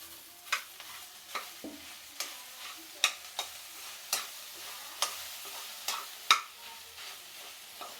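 Leftover idli pieces fry and get stirred in a steel kadai: a quiet background sizzle punctuated by repeated sharp metallic scrapes and clinks of the spatula at an irregular pace, with no talking.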